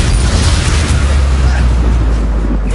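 A fire spell, Incendio, is cast during combat in a Harry Potter video game, producing a loud, sustained, roaring boom-like burst that fills the whole moment, with no talking over it.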